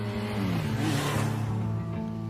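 Motorbike engine in an anime scene gliding through city lights, a steady close engine drone with shifting pitch over 2 seconds, with no talk.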